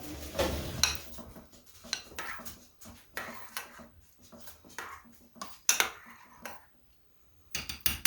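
Kamut grain in water gets stirred in a container, producing close, irregular clinks and scrapes of a utensil against the sides, with wet swishing between bursts and brief pauses of near silence.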